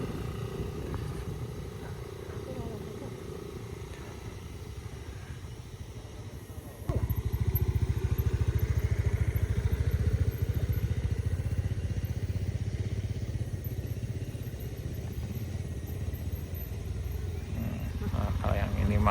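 A motorcycle labours up a steep wooden ramp on a rural road, its engine droning low and then surging louder midway as it revs, while people shout encouragement in the background.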